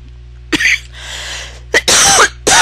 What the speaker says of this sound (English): I don't know why I start coughing whenever I take videos